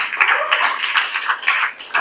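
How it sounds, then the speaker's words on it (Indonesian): Brief burst of clapping from a group, sustained and fairly loud with dense overlapping claps for about two seconds. "Tepuk tangan buat kita semua."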